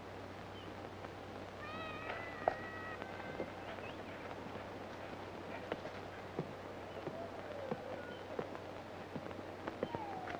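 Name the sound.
kitten meowing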